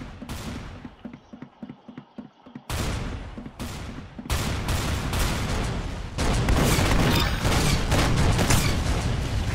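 Gunfire and rocket launcher explosions ring out in the Roblox game Arsenal: sharp bursts of shots give way to dense, loud, continuous firing and booms that build and intensify toward the end.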